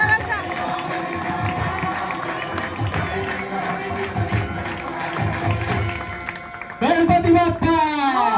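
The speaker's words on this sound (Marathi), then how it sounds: "जोरदार टाळ्या होऊन जाते स्वर्णिकासाठी." Clapping and cheering from a crowd at a Diwali dance event for Swarnika, steady and fairly loud under chatter and voices, giving way near the end to a louder burst of sound.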